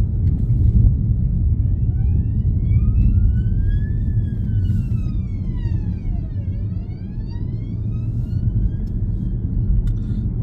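An emergency service vehicle's wailing siren rises and falls as it passes close by, heard from inside a moving car on a driving lesson over a heavy low road rumble, with no talk.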